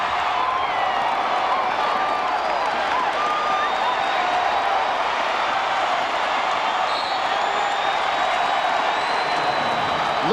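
Sellout basketball arena crowd at a Memphis Grizzlies home game against the Washington Wizards with Michael Jordan, roaring with steady cheers and applause after a late three-pointer, a dense, continuous wall of noise throughout.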